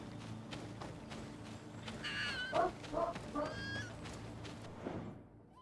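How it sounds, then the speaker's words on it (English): A dog barks in the background while a video game plays, a few distant sharp yips and barks of moderate volume clustered in the middle seconds. "my dog's barking at something."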